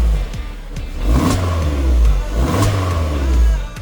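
Stock exhaust of a Suzuki Jimny 1.5 revving: a loud, close, low-pitched engine note that climbs twice in quick throttle blips and settles back toward idle between them.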